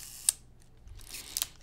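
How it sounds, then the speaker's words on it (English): A Rollei 35S 35mm film camera shutter fires at a slow speed with two crisp, quiet mechanical clicks about a second apart, opening and then closing, with near silence around them. "Kind of interesting that the slow shutter speed started working."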